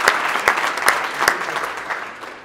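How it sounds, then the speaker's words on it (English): A keynote Q&A audience applauds, a moderate wash of clapping with several distinct louder claps at a steady beat near the start, tapering off toward the end. "Round of applause,"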